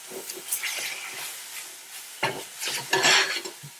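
White wine vinegar sizzling and reducing in a hot pan with mushrooms, with intermittent scraping and stirring of a utensil against the pan as it deglazes, louder bursts near the end.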